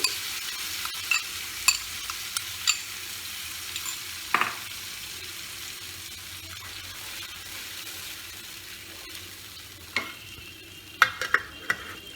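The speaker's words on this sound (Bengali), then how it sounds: "এইবার আমি দইটা এর মধ্যে ঢেলে দেব।" Yogurt going into a pan of frying eggplant for doi begun, with a soft steady sizzle and scattered spoon clinks and scrapes against the pan, fairly quiet throughout.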